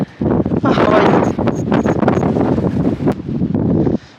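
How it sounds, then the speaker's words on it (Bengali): Strong storm wind on a rooftop in the Kerala hills buffets the microphone in loud, roaring gusts that surge and ease over a few seconds, with faint rustling mixed in. "এতটাই ঝড় মনে হচ্ছে হাওয়ায় আমাকে উড়িয়ে নিয়ে চলে যাবে"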